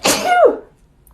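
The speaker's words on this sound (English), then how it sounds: "I'm going to sneeze, sorry" A single close, loud sneeze bursts out abruptly, a breathy explosive onset followed by a short voiced tail that fades within about half a second, then quiet.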